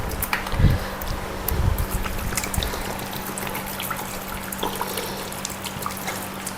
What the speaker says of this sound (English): I'm going to fill that with water and boil it until the apples are tender.